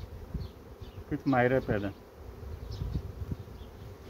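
Honeybees in a small spring hive colony hum in a close, continuous buzz, swelling louder for a moment, while a person speaks over it.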